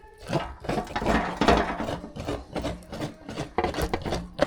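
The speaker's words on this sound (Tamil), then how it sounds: "நான் தேங்காய் தருவிக்கிட்டு இருக்கிறேன்" Coconut being grated by hand while making jamun fruit chutney: a rapid, rhythmic series of rough scraping rasps, close and fairly loud, repeating steadily with no talking.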